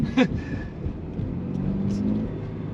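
A Subaru BRZ with a six-speed manual pulling away from a stop, its low engine rumble building steadily under faint road noise, with a brief higher tone near the start.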